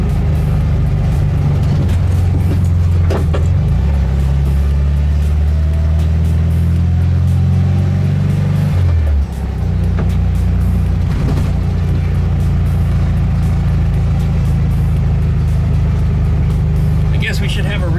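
A VW Thing drives along with a loud, close engine drone. Its pitch climbs steadily, then drops at a gear change and settles into a steady cruise, and a voice is heard at times.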